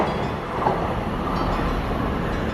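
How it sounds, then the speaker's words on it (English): A fast train pulls away from a station platform in Japan, its steady broadband rumble and rushing hiss holding loud and continuous throughout, with no voices. "Here goes our train."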